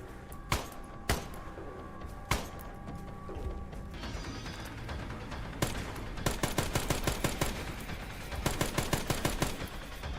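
Rapid gunfire from the Dead Rising Deluxe Remaster video game crackles in quick bursts amid a steady background of game sound, growing into a fast rattling volley near the end.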